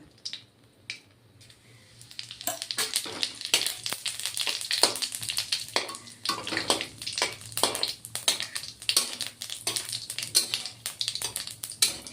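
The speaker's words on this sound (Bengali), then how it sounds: "এই যে ছোটো চামচে এক চামচ জিরে ফোড়ন দিলাম" Cumin seeds and a dried red chilli crackle and sizzle in hot oil, tempering for a dry yardlong bean and potato curry. After a quiet start with a few taps, a loud, dense, continuous spluttering begins close by.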